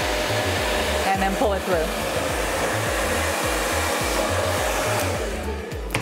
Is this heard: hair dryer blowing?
yes